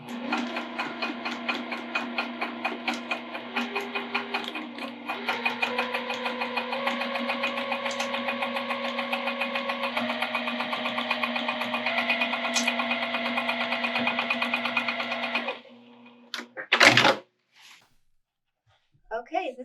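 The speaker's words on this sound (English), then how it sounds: "Sew right along that stitching line we just sewed." A sewing machine stitches a soft vinyl zipper pouch in one long, steady whirring run of rapid needle strokes, then stops with a brief clatter and a short burst near the end.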